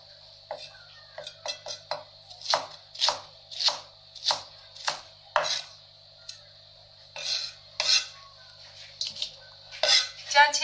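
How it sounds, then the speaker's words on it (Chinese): A kitchen knife chops green onions on a cutting board in a quick, uneven series of crisp strikes with short pauses between bursts, close and clear against a quiet background with faint hum. "葱切成葱花"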